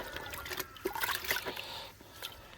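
Water trickles and splashes faintly while an air filter is washed by hand, a soft irregular dribble close by with light handling noises and no speech.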